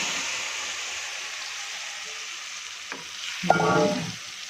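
Sliced onions and potatoes frying in a pan with spiced oil, a steady hiss of sizzling, then a louder surge of crackling as they are stirred near the end.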